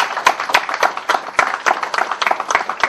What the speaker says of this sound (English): a huge round of applause for all you guys.